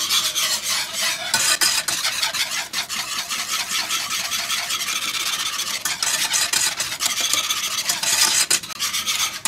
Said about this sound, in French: on continue toujours de mélanger.